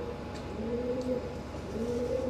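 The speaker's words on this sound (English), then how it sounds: "inevitably, by the ever-present pigeons" Pigeons coo softly in a York yard, a low repeated warbling call returning at intervals over a steady outdoor hum, moderately near with no talking.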